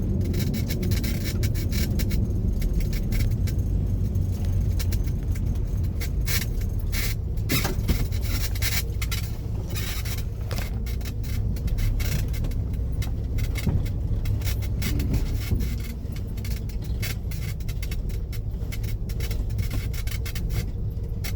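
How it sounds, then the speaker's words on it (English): A Corvair car engine runs while driving, a loud, steady low rumble from inside the cabin with rattling and jangling over it, unbroken throughout and without talk. "the engine is a little shaky. Feels like it's about to stall out, but it doesn't."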